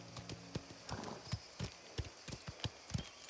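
Horse hooves clip-clop steadily in the video game Mafia: The Old Country, a brisk, evenly spaced run of close, distinct hoofbeats with no talk over them.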